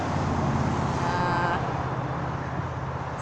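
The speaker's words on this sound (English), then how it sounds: "There's a lot of very noisy traffic on the highway." Noisy highway traffic on a summer evening: a constant broadband roar of vehicles, loud and unbroken, with a faint whine passing briefly midway and no speech.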